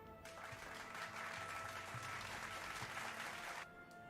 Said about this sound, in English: That wasn't really worth the applause and ovations.